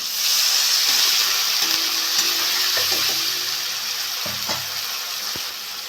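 Water poured into a hot pan of tomato masala for aloo motor ghugni, a steady loud sizzling hiss with bubbling, a few light clinks of a utensil near the end.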